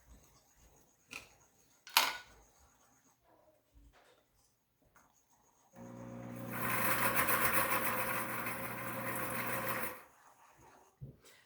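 An electric mixer whirs through brownie batter in a steady, loud buzzing burst lasting about four seconds, framed by quieter clinks and handling noises before and after.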